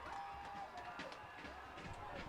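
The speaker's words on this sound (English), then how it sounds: "Listen to this crowd, everybody." Rugby league preliminary final crowd at a Tweed Coast Raiders versus Ballina Seagulls game, a dense steady roar of cheering and shouting that fills the whole stretch without a break, with voices blended into the noise.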